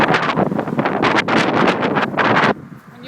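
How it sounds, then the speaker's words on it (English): Heavy gusts buffet the microphone during a windy outdoor walk, loud irregular roaring bursts that drop away sharply near the end. "Feel the wind"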